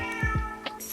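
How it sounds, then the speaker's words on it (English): A house cat named Cleo gives a couple of short, close meows in quick succession, clear against a quiet indoor background. "There's the kitty."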